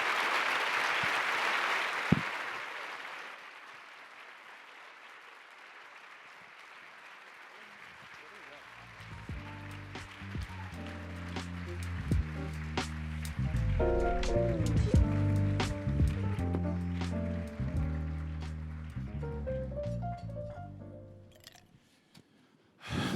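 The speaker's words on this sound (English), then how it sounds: "Please let's all give a big round of applause once more to Dr. Allen" A lecture audience applauds, a broadband clapping wash at the start that fades as the clapping thins out. Music then rises in the background for the remaining stretch.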